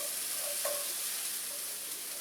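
Onion gravy ingredients cooking in a pan, giving a soft, even sizzle with a faint clink of stirring partway through.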